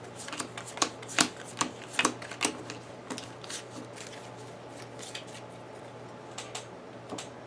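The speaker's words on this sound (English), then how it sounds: "Let's give that a shuffle." A deck of game cards for the Pathfinder Adventure Card Game is shuffled by hand close up, a run of quick crisp riffles and snaps in irregular bursts, quiet, with no one talking.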